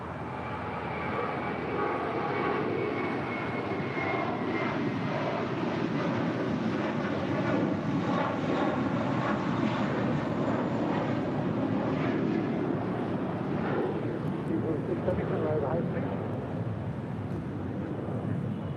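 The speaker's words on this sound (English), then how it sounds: "Air France, the A350, taking off there on the north side." Air France Airbus A350 taking off at LAX, a loud sustained jet engine roar with wind buffeting. It holds steady across the whole stretch with a broad rushing tone.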